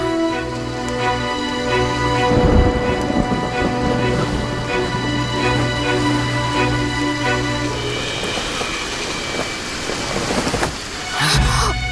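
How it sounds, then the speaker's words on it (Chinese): Heavy rain pours steadily while thunder rumbles, with a deep crash early on and another near the end. "外面打雷了"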